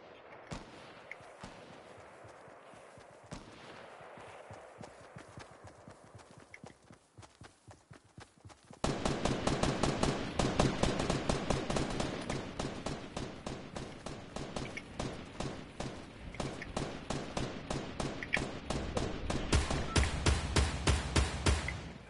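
Video game gunfire in a squad battle royale match, rapid repeated shots cracking in a steady, loud stream after a quieter stretch of scattered pops, continuing to the end.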